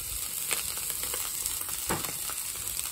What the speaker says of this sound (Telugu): లాంగ్ పొడుగ్గా కట్ చేసుకున్నా క్యాప్సికమ్, అట్లానే మన క్యాబేజీ పొడుగ్గా కట్ చేసుకున్న క్యాబేజీ, రెండింటిని మంచిగా ఫ్రై చేసుకోండి